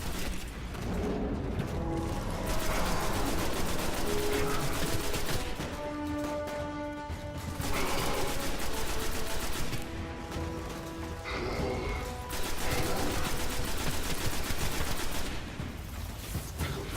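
Shotgun fire in a video game, rapid heavy blasts repeating in bursts with short pauses between, mixed with mechanical clatter and reloading sounds, loud and close throughout.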